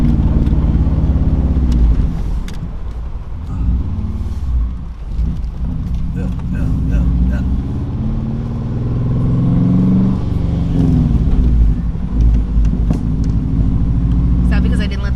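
A race car idles and rumbles in neutral, its low engine drone running steadily and fairly loud throughout, with occasional clatter and people talking over it.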